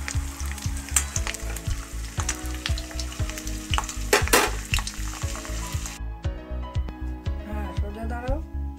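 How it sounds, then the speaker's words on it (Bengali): Pieces of pointed gourd fry in hot oil in small batches, giving a loud, steady sizzle with rhythmic scraping stirs, and a voice briefly speaks over the cooking. "পটলগুলোকে ছেড়ে দেবো। আমি অল্প অল্প করে ভেজে নেব।"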